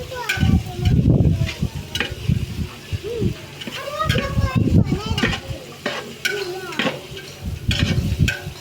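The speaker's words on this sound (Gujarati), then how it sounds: "હવે એને બધું મિક્સ કરી દેવાનું" A spoon stirring vegetable khichdi in a pot, scraping and clattering softly in repeated strokes beneath almost continuous talking, with children's voices also present.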